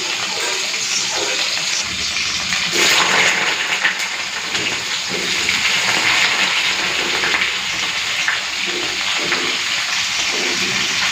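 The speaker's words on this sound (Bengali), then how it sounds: "চিচিঙ্গাটা ভেজে নিই।" Snake gourd sizzling as it fries in hot oil in a home kitchen, a steady loud hiss and crackle running throughout with no pauses.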